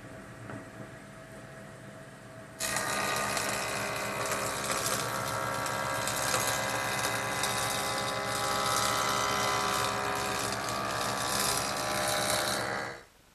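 A power saw's rotating blade cuts a wood board for a drop leaf table, starting abruptly after a quiet moment and roaring steadily and loudly for about ten seconds before cutting off.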